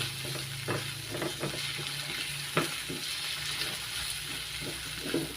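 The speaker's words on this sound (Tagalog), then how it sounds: "Gisahin natin yan hanggang sa lumambot at medyo lumusaw o malusaw na yung ating mga kamatis" Tomatoes sauté in a pan for Filipino squid adobo, a steady close sizzle with the scrape and clack of a stirring utensil on the pan throughout.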